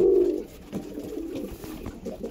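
Close, loud cooing from pigeons kept for sale opens with a deep rolling call, followed by softer overlapping coos and rustling from several birds.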